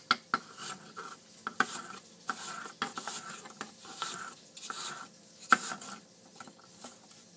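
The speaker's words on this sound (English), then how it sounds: "And we just chop." Knife chopping through food on a cutting board in a home kitchen, a series of irregular close taps and knocks with faint background clatter, no voices.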